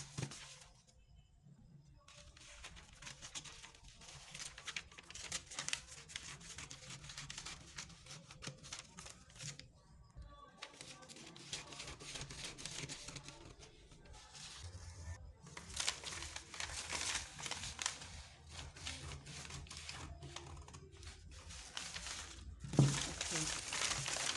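Scissors cutting through blouse fabric along a marked line, with faint crisp snipping and crinkling in close bursts broken by short pauses, and a voice speaking over parts of it.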